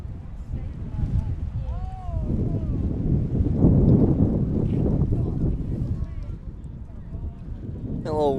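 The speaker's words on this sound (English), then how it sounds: "A little windy. A little wind breeze coming in here." Wind buffets the microphone at an outdoor baseball game, a low rumbling roar that swells and fades under ongoing commentary and distant crowd sounds.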